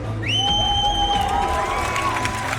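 A home crowd at a Rainbow Six Siege Pro League event in Cologne cheers loudly and steadily, with whoops and high shouts rising over a dense roar that carries on without a break.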